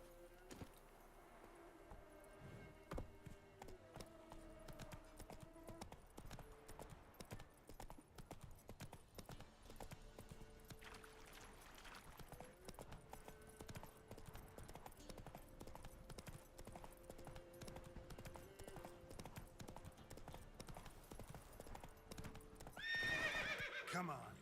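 Hooves of a horse named Roach clip-clop and gallop across a video game world, a quiet, steady rhythmic patter over a long stretch with an occasional whinny, underscored by soft in-game music.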